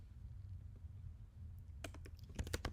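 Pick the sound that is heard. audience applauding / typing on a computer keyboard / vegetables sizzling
typing on a computer keyboard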